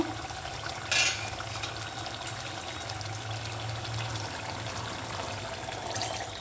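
Water is poured into a pot of cooked meat curry, making a quiet, steady trickling pour with a brief splashy clink early on.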